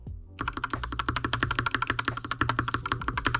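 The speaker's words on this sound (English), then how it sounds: "This is how the spacebar sounds now." A lubed mechanical keyboard with Akko Rosewood switches clatters in rapid, steady strokes after a brief pause, close and loud, each press damped and thocky rather than clicky, with no talking.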